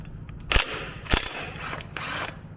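A wrench works loose the big 19mm balancer pulley bolt on a Toyota 22RE engine, giving two sharp ratcheting clicks and mechanical rattles against a low steady hum, with no talking.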